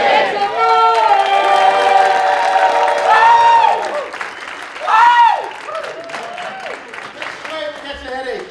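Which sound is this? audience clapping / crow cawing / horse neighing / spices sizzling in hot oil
audience clapping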